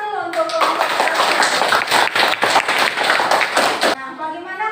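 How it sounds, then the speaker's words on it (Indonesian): A classroom of students applauding a group in a maths lesson, a burst of loud, close, rapid clapping for several seconds, framed by a teacher's voice speaking before and after. "Tepuk tangan dulu untuk kelompok 1."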